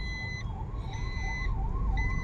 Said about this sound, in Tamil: இந்த பகுதி ஆம்புலன்ஸ் போகுது